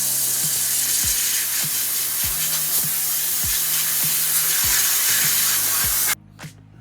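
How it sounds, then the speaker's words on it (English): An air compressor blows a steady, loud hiss of air over a cast iron pan to dry it, with faint mechanical clicks underneath, cutting off abruptly near the end and followed by a brief softer puff. "then I'm gonna hit it with my air compressor to get in between these little slats"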